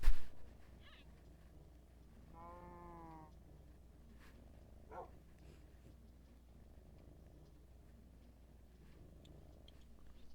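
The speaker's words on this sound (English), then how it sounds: "I put the mic right up against his throat. And he's no purries. He's a loud purr, honestly." Pet cat Kuma heard with a microphone pressed against its throat: a low, rumbling purr runs throughout, with a short bright meow-like cry near the start and faint scattered shuffles around it.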